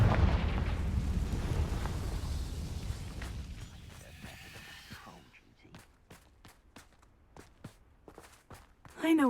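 Confringo spell blast in Hogwarts Legacy: a loud, rumbling fiery explosion that gradually fades over several seconds, followed by a series of sharp crackling pops and impacts.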